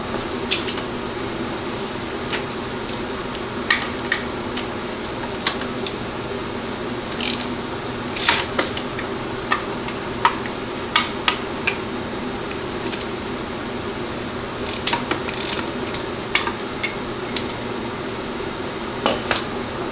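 Metal shaper cutting serrations into aluminum vise jaws, a steady mechanical hum under repeated sharp metallic clicks and clinks from each stroke, close and continuous.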